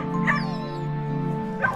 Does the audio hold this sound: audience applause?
no